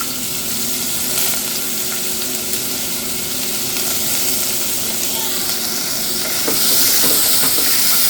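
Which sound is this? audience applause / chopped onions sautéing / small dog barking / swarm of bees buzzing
chopped onions sautéing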